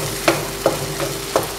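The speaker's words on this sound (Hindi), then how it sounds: "अभी इसको मज़ीद हम 5 मिनट भूनेंगे।" Maghaz masala of goat brain cooking in a pan, a low steady sizzle under four short scraping stirs spaced unevenly, close and fairly loud, with no talk.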